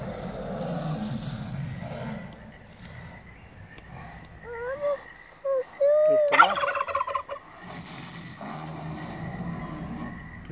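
Imitated dinosaur roars and calls at a nursery trip exhibit come as a series of short warbling, gobbling cries in the middle, between stretches of low background murmur.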